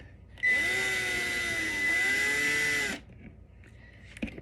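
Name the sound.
power drill unscrewing a screw in an RV light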